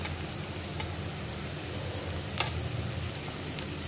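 Beans tossed into rice frying in a pan, a steady close sizzle with light stirring clicks and a couple of soft knocks, no talking.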